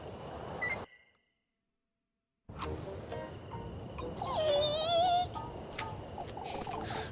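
Puppy whimpering in a video game: soft whines before a brief silence, then a rising, wavering high whimper over faint background noise.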